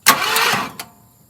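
An abandoned 1974 Ford F250 V8 engine cranks over with a short burst of starter whirring and a brief second kick, then falls silent. The sound is close and fairly loud.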